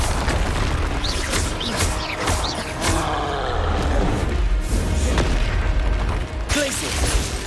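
Booming spell blasts from the Bombarda curse in Hogwarts Legacy, loud and dense among clanking mechanisms, crashes and battle noise, with several impacts running through the whole stretch and a voice calling out spells.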